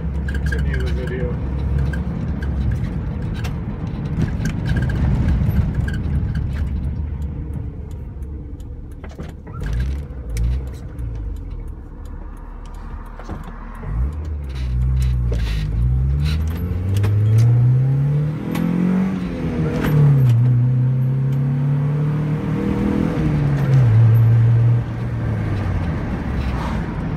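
A Nissan Titan pickup truck drives on the freeway, its engine droning steadily with road and wind noise and rising, revving pitch sweeps as it accelerates, loud and close from inside the cab.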